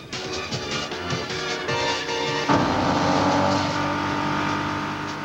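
A Nissan Skyline sports car in a movie chase scene roars past with a sustained, loud engine note that surges and rises partway through, with no speech over it.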